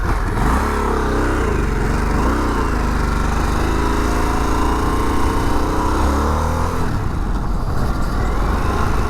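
A 2021 Harley-Davidson Sportster S on a road test ride gives a continuous loud engine drone whose pitch swells and dips as the throttle is opened gently, with no talking.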